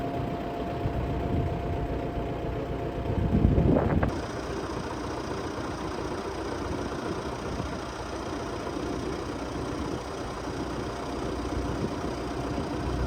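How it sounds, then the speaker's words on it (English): A tractor powers a hydraulic post knocker, its engine running at a steady idling drone with a brief, heavier clunking surge early on before settling back to an even hum. "it all works using the hydraulics on the tractor"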